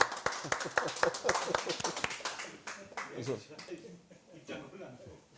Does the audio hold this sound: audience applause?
yes